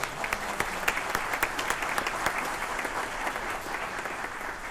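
Audience applause at a school jazz band holiday concert: a full, even round of many hands clapping in a hall, sustained for several seconds without a break.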